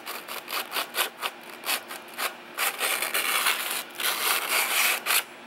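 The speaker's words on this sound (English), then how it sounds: "So the first thing you're going to do is you're going to take your sandpaper." Sandpaper is pinched around a glazed brake rotor and dragged back and forth in quick, close, rhythmic scratchy strokes that run together into a continuous rasp midway through.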